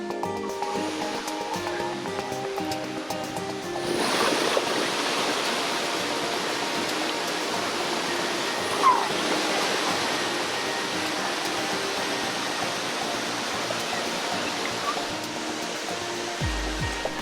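Sweet Creek Falls in Oregon roars steadily as a broad, continuous hiss of rushing water, growing fuller after a few seconds and staying constant throughout.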